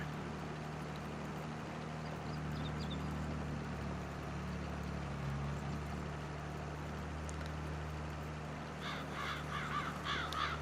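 In the Farming Simulator 22 video game, crows caw several times near the end, over a steady low engine drone from farm machinery.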